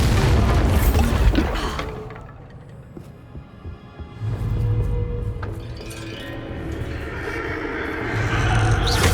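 A Bombarda spell explodes in the video game Hogwarts Legacy, a loud booming blast that fades into a low rumble, followed by further heavy impacts and swelling game sound effects, with no talk.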